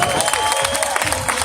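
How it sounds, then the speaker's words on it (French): Audience applause at the FISE 2019 final, a steady wash of clapping and crowd noise throughout, with a commentator's voice audible over it. "c'est nickel, on peut applaudir ça"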